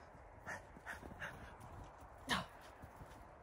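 A distant dog gives a few soft, short barks and a whimper, spaced unevenly against a quiet background.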